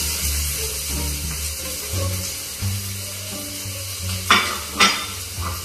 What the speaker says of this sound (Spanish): En una cacerola que previamente pusimos un poco de aceite, vamos a sofreír la cebolla.